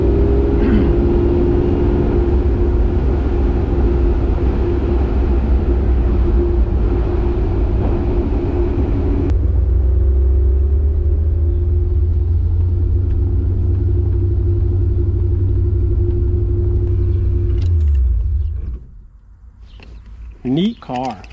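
A Maserati Ghibli Spyder 4.9 SS engine drones steadily from inside the car while driving, a loud low rumble that shifts pitch once before dropping away near the end, with occasional talk over it.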